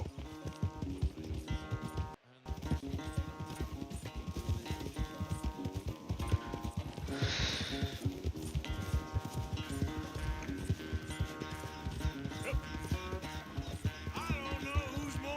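Rapid hoofbeats of galloping horses in the video game Red Dead Redemption 2 pound steadily over a music score, with a brief dropout early on and a snort or whinny midway.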